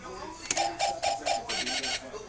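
A voice imitates a monkey with a quick series of rhythmic, chattering 'ooh-ooh'-like calls, about eight close, bright bursts in a row.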